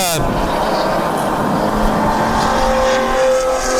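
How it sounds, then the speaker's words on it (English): Touring cars racing at Sonoma, loud engines roaring and revving close by with shifting pitch as cars pass, under continuous commentator talk. "We have now Andy Chittum, who's just not letting that touring car of Enrique get away"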